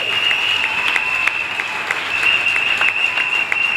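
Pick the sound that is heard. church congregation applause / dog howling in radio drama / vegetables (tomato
church congregation applause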